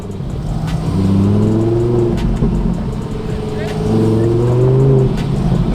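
A modded BMW 435i racing, its engine accelerating close up in rising revving sweeps, easing off and then pulling hard again through the gears.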